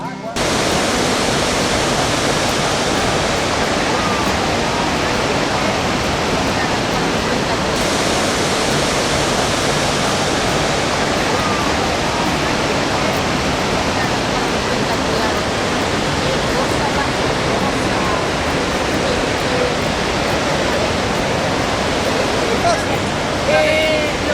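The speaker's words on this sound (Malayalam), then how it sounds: "ലോകപ്രശസ്തമായ ഇഗ്വാഗു വെള്ളച്ചാട്ടം ഇതാ" The Iguazu waterfall in Brazil gives a loud, continuous roar of falling water, broad and unbroken throughout, heard from close by.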